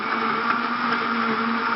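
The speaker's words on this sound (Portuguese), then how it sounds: "Depois você liga o liquidificador" A blender whirs at a steady, loud pitch for a couple of seconds, its motor drone constant and close, running on speed 2 with water and pineapple.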